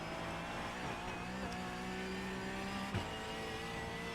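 A Porsche 911 Cup car engine in the racing game iRacing holds a steady, sustained drone at near-constant revs with no talk, a single sharp transient cutting in near the end.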